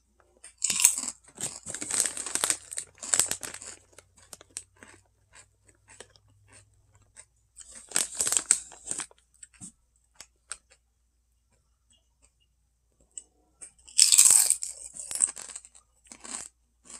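Someone crunching and chewing Zapp's New Orleans kettle-style spicy potato chips close to the mic, loud bursts of crisp crunching separated by quiet pauses, three main bouts over the span.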